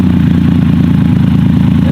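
Triumph Rocket 2.5 litre motorcycle engine with an aftermarket exhaust rumbling steadily at close range, a deep pulsing throb with a fast, even beat throughout.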